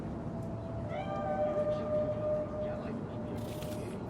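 A cat meows in Cyberpunk 2077, a few drawn-out tonal cries over a steady low rumble, fairly faint, with a brief brighter noise near the end.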